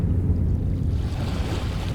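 Water waves lap steadily in the video game Dagon, a low, continuous washing rumble with a soft windy hiss, unbroken and fairly close.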